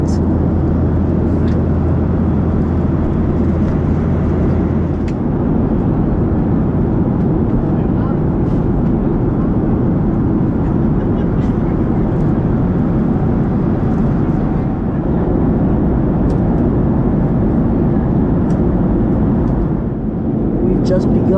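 Steady, loud broadband roar inside the cabin of a Southwest Boeing 737-700 airliner cruising over Tampa, Florida, a constant engine and airflow drone that persists unbroken throughout with a voice talking over it.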